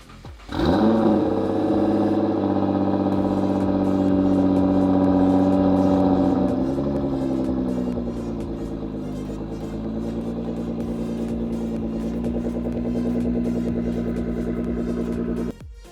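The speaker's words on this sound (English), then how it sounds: "let's get a cold start of the GTR, the Camry, and then the Hellcat Redeye" A car engine cold start, from a Nissan GTR, Toyota Camry or Dodge Hellcat Redeye: a brief crank, a loud catch into a high rev, then a gradual drop to a steady, rumbling idle that runs until an abrupt cut near the end.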